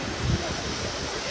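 Waimea Falls waterfall in Hawaii, where people swim in the pool below: a steady, broad rushing wash of falling water, moderately loud, with a brief low gust of wind noise on the microphone.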